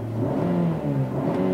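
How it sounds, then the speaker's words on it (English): Push-button start of a 2019 Nissan Rogue SL with a 2.5-liter four-cylinder, the engine catching and settling into a steady, fairly loud idle hum with a slight rise in revs near the middle. "push the button here to fire up the engine"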